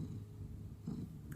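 A snuggly, affectionate cat purrs close by in a short burst, a low continuous rumble with a slight swell near the end and no talking.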